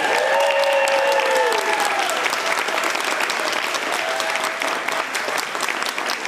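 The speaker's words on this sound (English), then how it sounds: "Let's give one more round of applause for our lovely Playworks company." Audience applause for a theatre company at the close of an evening performance, a dense, loud wash of clapping that runs throughout, with faint musical tones early on.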